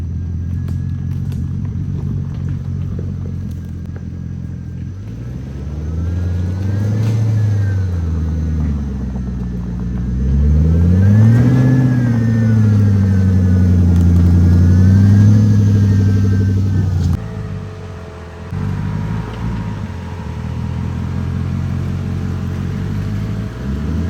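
Ford Raptor pickup truck driving off-road, its engine rising and falling in pitch through repeated revs and accelerations, loud and close with a rumbling undertone, then settling lower near the end.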